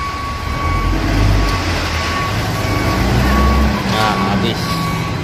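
A tronton dump truck tipping base-course stone on a concrete-pour site rumbles with a loud continuous diesel engine, a steady tonal beep running through it, and a rushing clatter of stone sliding out, all close and unbroken.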